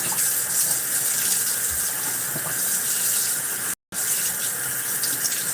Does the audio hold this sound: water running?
yes